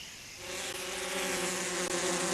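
A swarm of bees buzzes in a bedtime story scene, a dense, steady droning hum that swells in slightly after a quiet start and holds loud and continuous.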